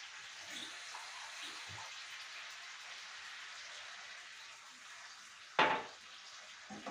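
Water being added to a pan of yumurta kapama, a Turkish egg dish cooked with tomato paste: a steady, soft hiss of flowing water, then one sharp, brief splash near the end.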